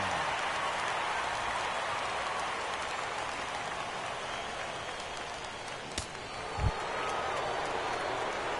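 Steady rain hissing down over a ballpark during a World Series game in the MLB The Show 17 baseball video game, a continuous even wash of drops with a brief soft thump near the end.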